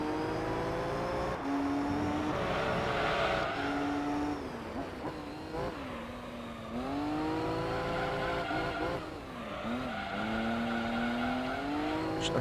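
A race car in Gran Turismo 3 drives continuously, its engine droning and rising and falling through shifts and revs, with brief tire squeal as it understeers through corners.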